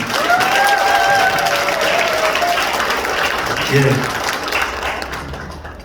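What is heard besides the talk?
applause at election office opening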